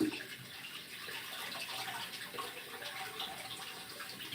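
Running water pours steadily as salted dried cod, bacalhau, is rinsed under a kitchen tap, a soft continuous splashing at low level without talk.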